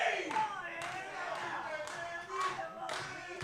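A wrestling crowd clapping in rhythmic bursts at a live match, steady and somewhat distant, under a commentator's voice.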